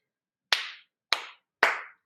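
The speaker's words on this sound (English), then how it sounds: "if you clap your hands at different places in your room, you'll notice things reverberate differently wherever you are." Three quiet hand claps spaced about half a second apart in a room, each a sharp snap with a short reverberant tail, alone with no talk.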